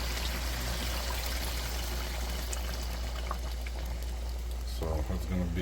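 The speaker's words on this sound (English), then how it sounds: "Alright guys, it's time to put water on top." Water poured from above onto rice in a pot for Uzbek plov, a steady rushing pour lasting several seconds, loud and close, ending with a brief clatter.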